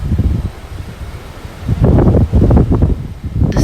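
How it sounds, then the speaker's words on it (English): Strong wind gusting outdoors during a snow storm in Ontario, Canada, a loud rushing roar with buffeting against the microphone, swelling stronger in the second half. "The speed of the wind was around 100 kilometers per hour."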